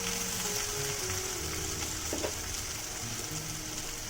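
Bottle gourd greens with poppy seed frying in a pan, a steady close sizzle with a faint stir near the middle, no voices.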